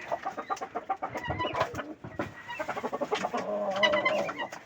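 Pet pigeons bathing in water at a home loft, with soft cooing and clucking calls and splashy flutters close by in a steady, busy jumble, no voices.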